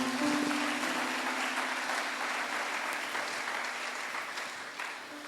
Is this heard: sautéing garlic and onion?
no